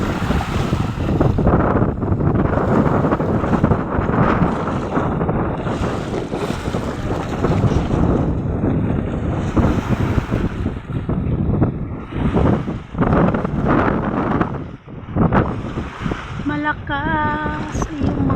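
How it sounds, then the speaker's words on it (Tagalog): Strong sea waves churn and crash at a boat without pause while heavy wind buffets the microphone in loud, roaring gusts, with a brief tonal chirp near the end. "Malakas talaga yung alon guys."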